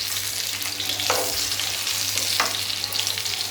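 Besan-stuffed green chilies fry in a pan on low flame, giving a steady, close sizzling hiss with a couple of brief louder spatters as they are turned.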